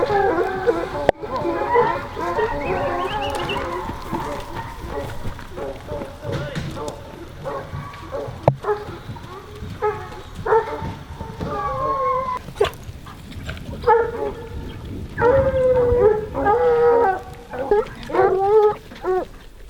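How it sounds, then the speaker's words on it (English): Bear hunting hounds in the back of a truck barking and howling in repeated excited bursts, close and loud, with a person talking between and over them. "barking and howling and just going crazy in the back of the truck"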